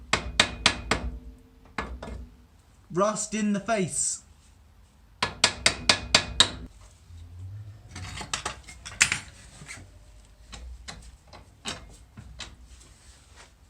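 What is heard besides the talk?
hammering coilover into car suspension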